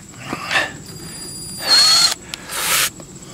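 Power drill fitted with a 3/8 drive socket, close and loud in two short whirring bursts with a whine spinning up and down, separated by quieter handling noise.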